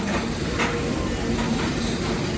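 Busch Gardens Serengeti tour train rolling steadily on its rails in Tampa, a continuous rumbling run with faint rhythmic clatter, close and even throughout with no talk.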